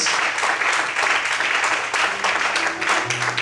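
A church congregation applauds during an evening service, with dense, continuous clapping from many people filling the room, loud and steady, and some voices mixed in.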